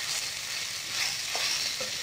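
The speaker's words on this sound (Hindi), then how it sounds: "एक हाथ से चम्मच पकड़िए एक हाथ से कलछुल या दो हाथ से चम्मच के सहारे इस तरीके बढ़िया तरीके भून सकते हैं।" Egg Maggi noodles are stir-fried in a pan with a ladle and spoon, giving a brief, steady hiss of frying with a couple of soft scrapes.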